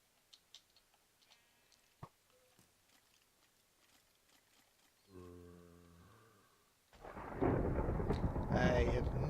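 Thunder from a lightning strike in a Minecraft-style video game realm, a low rumbling crash that swells in over the last couple of seconds, loud and sustained after a quiet stretch of clicks and a brief tonal sound effect.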